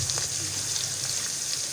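Onions browning for chana curry sizzle steadily in a pot, a dense, even frying hiss close up with faint stirring underneath, no voices.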